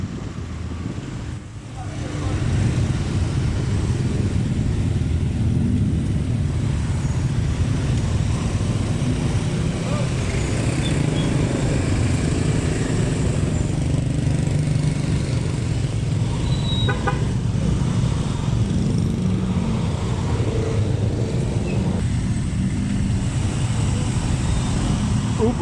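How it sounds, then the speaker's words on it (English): Traffic jam of cars and motorcycles on a street in Ubud, Bali: a constant rumble and buzz of idling and creeping engines nearby, with scattered horn toots and voices talking under it. "Ubud traffic jams rock."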